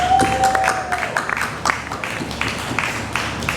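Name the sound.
audience applause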